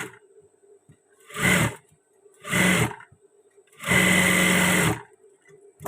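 A sewing machine stitching batik shirt fabric runs in three loud, close bursts, two short and one longer, separated by quiet pauses.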